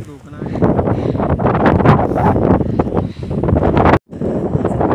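Heavy gusting wind sweeps across open village ground at midnight, a loud unbroken rush that cuts out briefly near the end, with people talking over it.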